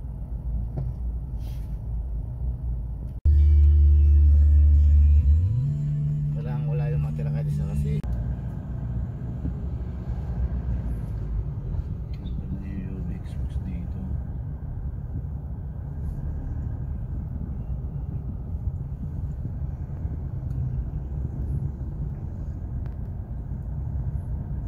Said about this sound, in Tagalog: Traffic dito sa ano, East Avenue.